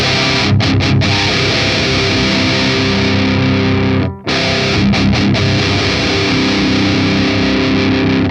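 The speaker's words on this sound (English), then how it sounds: "the distortion that you get out of this amp is sort of like fizzy and really like flubby sounding" Thick, heavily distorted metal electric guitar chugging loudly through the ML Sound Lab Amped Burger amp plugin, fizzy and flubby in tone, with a brief cut to silence midway before the riff resumes.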